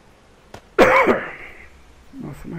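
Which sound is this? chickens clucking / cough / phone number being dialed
cough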